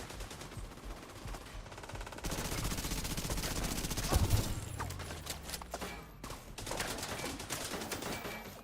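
Automatic and burst gunfire in the tactical shooter game The Division 2, rattling in rapid bursts over several seconds with a heavier impact near the middle, mixed with game effects and a brief voice.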